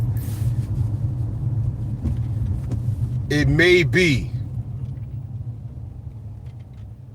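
Electric scooter whirring past close by, a short rising-and-falling whine lasting about a second over steady road rumble, with someone talking throughout.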